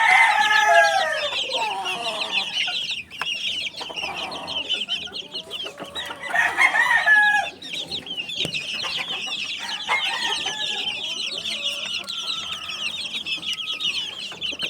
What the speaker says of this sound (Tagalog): ibinalik na sa brooder ni Jayfern yung mga lalaking sisiw